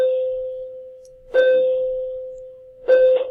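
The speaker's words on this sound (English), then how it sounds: "that's the bell" A school bell: a steady electronic bell tone rings continuously, swelling twice into brighter, louder chiming bursts.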